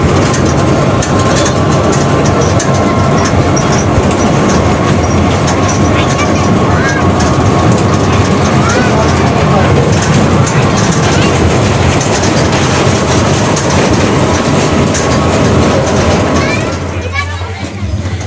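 A small zoo ride train for children running on rails at Rangpur Zoo, a loud continuous rumble and rattle of wheels heard from on board, easing off near the end.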